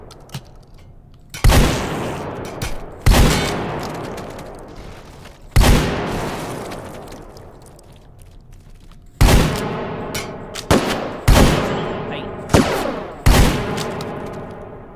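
Gunfire in the VR shooter H3VR: a series of sharp, loud close shots, first spaced a second or more apart, then in a quicker cluster of bursts, each ringing out with a fading tail.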